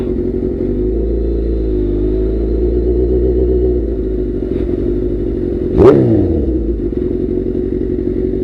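A sportbike fitted with Danmoto XG-1 exhaust pipes idles with a loud, steady, throaty rumble, and a sharp blip of revving rises and falls in the middle.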